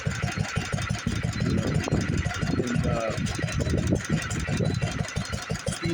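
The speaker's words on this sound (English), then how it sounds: "Have the drill press running." A 1910 lineshaft machine shop powered by an International LA engine with a drill press running, heard as a steady close engine chug and rhythmic mechanical clatter, with someone talking over it.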